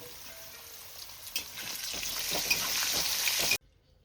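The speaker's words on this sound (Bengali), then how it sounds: "দিয়ে আলুগুলোকে বেশ লাল লাল করে ভেজে তুলে নেব" Potatoes frying in mustard oil with salt and turmeric for a Bengali muri ghonto recipe: steady close sizzling and crackling hiss with little pops, cutting off abruptly near the end.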